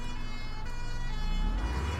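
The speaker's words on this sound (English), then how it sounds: "Look at that, where the siren's coming from." An ambulance siren in the OMSI 2 bus simulator on a London route near Marble Arch, a steady wailing tone sounding continuously over low engine rumble, moderately loud throughout.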